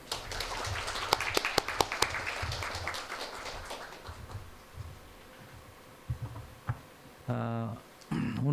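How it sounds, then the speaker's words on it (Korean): An audience at a Korean research institute's annual results ceremony claps to welcome a provincial vice-governor, a dense burst of applause that thins out into scattered claps, followed by shuffling and a short amplified musical sound near the end. "큰 박수로 맞이해 주시기 바랍니다"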